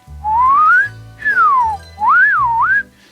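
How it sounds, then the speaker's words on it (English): Clear whistling alone, a rising note, then a falling one, then a wobbling phrase that dips and climbs again, in three close, loud bursts with soft low thumps underneath. "you can hear as I whistled, I did a little rise up, and then a rise down, and then a little wobble there."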